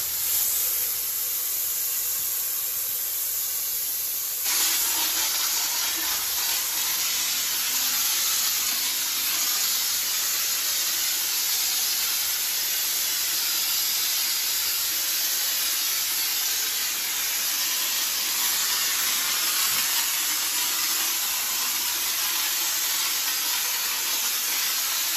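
A texture sprayer blasting lite orange peel texture onto a wall, a loud steady hiss of spray that kicks in stronger a few seconds in and runs on without pause.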